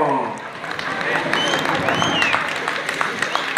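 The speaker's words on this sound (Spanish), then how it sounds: "Vamos a recibir con fuerza aplausos a los señores payasos directamente desde Silao, Guanajuato." Festival crowd applauding riders and clowns at an outdoor event, a loud continuous wash of clapping and crowd noise, with a whistle-like tone and an announcer's voice over it.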